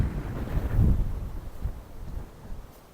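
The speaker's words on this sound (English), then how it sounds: "God, it's really blustery." Blustery gusts buffet the microphone outdoors at a seaside botanic garden near a coastal path, a low rumbling roar that swells and fades continuously with no talk over it.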